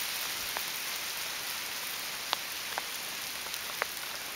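A spring hailstorm on Salt Spring Island in April, with a dense, even hiss of hail and rain falling outdoors and a few sharper close ticks of individual stones striking nearby surfaces.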